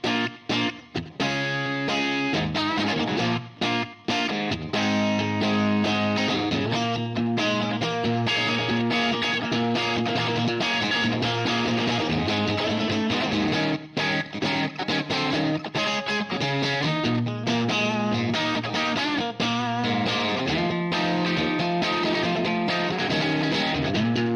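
An electric guitar plays through a Sabbadius JIMI Fuzz v2 pedal with its volume knob turned down, giving sustained, lightly fuzzed chords and notes that play loud and continuous for the whole stretch, with no talk over them.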